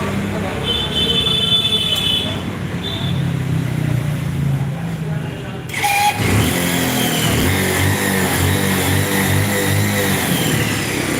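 A Bajaj Pulsar motorcycle engine starts partway through and settles into a loud, steady revving idle, with background chatter of a crowd before and during.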